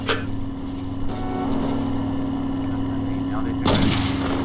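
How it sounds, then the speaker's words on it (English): Heavy gunfire in the video game True Crime: New York City, heard as one loud sharp blast near the end over a steady low rumble. "All units, gang activity, heavy gunfire reported."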